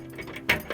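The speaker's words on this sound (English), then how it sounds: "these keys are pretty blooming cool" Old keys for a 1576 manor's wine cellar jangle briefly, a close metallic rattle with a sharper clink near the end, heard alone.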